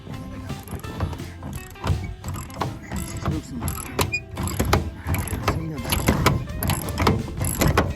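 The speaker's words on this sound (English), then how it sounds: "Now I have to get the right wrench for that and hopefully take these bolts off." A wrench works loose the bolts holding a backrack on a Chevy Silverado pickup, making repeated metallic ratcheting clicks and clanks in an uneven rhythm, with some handling knocks nearby.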